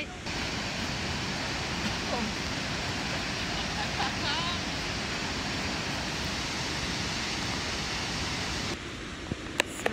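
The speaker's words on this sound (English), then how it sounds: "Just kidding, it's a waterfall." A waterfall near Eugene roars with a steady, close, full rushing wash that holds unchanged for nearly ten seconds before cutting off abruptly.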